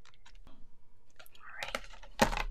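Scissors snip through a paper piece for a handmade card, giving several faint crisp clicks. A louder cut lands near the end.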